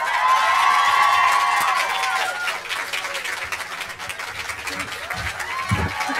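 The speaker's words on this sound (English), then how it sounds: "Please give a huge round of applause to the star of the film" Cinema event audience cheering and clapping as Daniel Radcliffe takes the stage, a loud crowd roar with whoops and applause that thins and fades over several seconds.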